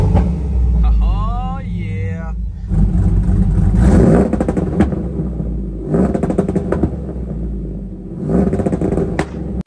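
Car engine revving against a two-step launch control limiter, with a loud, rumbling, repeatedly popping and stuttering exhaust held near 3,000 RPM in several surges, heard up close.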